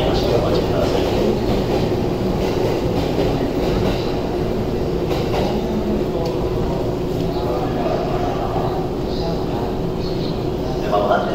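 Loud, steady rumble of a train arriving at platform 9 of Omiya Station, Japan, moving along the tracks with low mechanical drone and faint rail clatter, a voice speaking over it.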